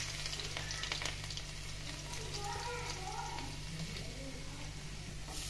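A soft, continuous sizzle of chopped garlic and cumin frying in hot mustard oil, close and steady throughout.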